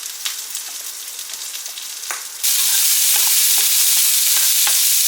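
Food chars in a hot pan, a steady sizzle that swells sharply partway through into loud, continuous frying hiss, with faint stirring scrapes underneath.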